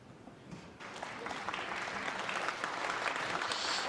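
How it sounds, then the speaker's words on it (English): Snooker crowd at the 2016 International Championship final applauding, clapping swelling from quiet to a steady, fairly distant round that keeps building to the end. "this crowd trying to encourage Ding Junhui here as Mark returns"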